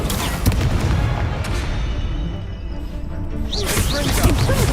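A Confringo explosive spell cast in the Hogwarts Legacy video game lands as heavy booming blasts and crashes amid battle noise and magical whooshes, with a voice speaking over parts of it.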